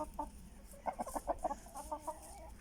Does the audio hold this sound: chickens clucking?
yes